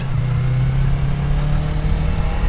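Yamaha R25 motorcycle engine running steadily as the rider pulls in to a school, a close, continuous mid-pitched drone with a strong low hum and slight revving throughout.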